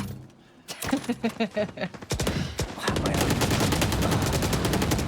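Rapid gunfire from the Valorant competitive match on the Ascent map, with sharp repeated shots in bursts, then a sustained dense spray of automatic fire, loud and close, under the mix of game sounds.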